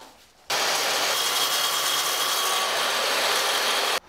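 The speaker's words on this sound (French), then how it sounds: "Découpe d'abord le plateau à la bonne longueur." A power saw cuts a kitchen worktop panel to length, a steady loud broadband whine running about three and a half seconds without pause, starting and stopping abruptly, no voices.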